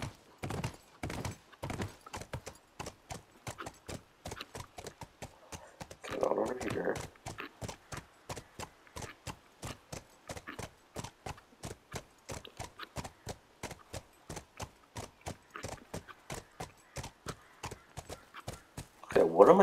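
Horse hooves clip-clopping in The Last of Us Remastered, a long steady run of close, crisp, evenly spaced hoof thuds with a brief louder scuffle partway through.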